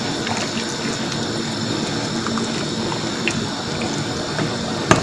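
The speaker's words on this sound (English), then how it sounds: "So you allow it to boil." A pot of egusi soup bubbles on the stove with a steady, close seething and burbling, broken by a few faint clinks. No voices are heard.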